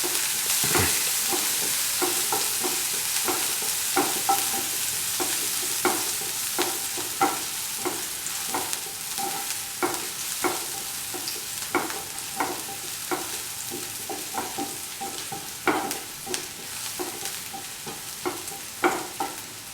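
Food frying in a pan until golden brown while being stirred, giving a soft continuous sizzle broken by regular scraping strokes of a utensil, close and fairly quiet.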